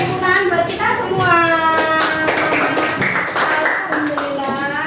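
Children in a classroom clapping their hands after a group discussion, quick bright claps close by mixed with excited kids' voices and chatter all through.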